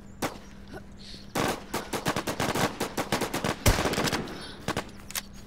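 Rapid bursts of automatic gunfire in a shooter video game, a sustained string of sharp loud shots packed into the middle of the clip with sparser single shots before and after.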